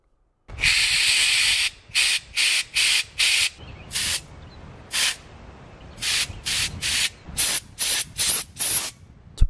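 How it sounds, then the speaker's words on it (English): Brake cleaner sprayed into the carburetor of a Honda GCV 160 mower engine in a string of short, sharp hissing bursts, one longer blast followed by about a dozen quick sprays, close up. "Shoot some brake cleaner down that hole, and then you're gonna want to blow out everything."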